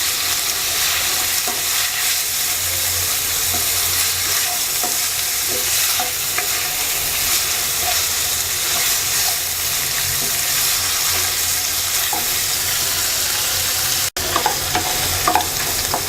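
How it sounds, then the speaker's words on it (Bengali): Chicken pieces fry on low heat in a pan, a constant close sizzle with occasional stirring scrapes and clicks running for the whole stretch, no voices present. "এবার চিকেনটাকে 5 মিনিট অল্প আঁচে ভেজে নেব।"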